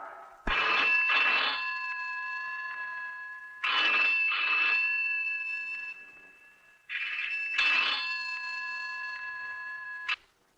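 A telephone ringing three times in long, even bursts with short pauses between, fairly loud and alone.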